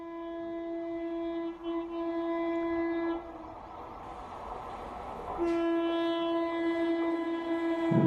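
An Indian Railways WAG-12 electric locomotive passes with a loud, sustained two-tone horn that breaks off briefly and resumes, over a steady rumble of the train, with no voices.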